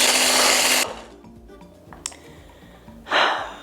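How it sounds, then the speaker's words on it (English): An electric mixer whips heavy cream in a bowl, a loud, high whirring burst that stops, then a short quiet gap with small clatters before the motor whirs again, close by. "We're gonna start with 2 cups of heavy whipping cream. Add this in to our bowl and get to mixing."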